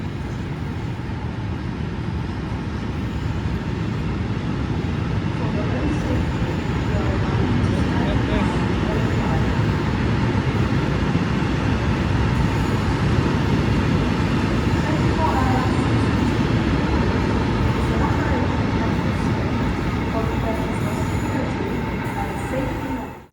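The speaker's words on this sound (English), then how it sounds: "The train now approaching platform 1 does not stop here." A Class 70 diesel locomotive passes through Stoke-on-Trent station, its loud continuous rumble and rolling wagon noise filling the platform for over twenty seconds, with faint voices in the background.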